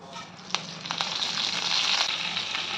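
Urad dal, mustard seeds and curry leaves sizzle in hot oil for a tempering, a steady broadband frying hiss with a few sharp pops and crackles, close and continuous with no talk.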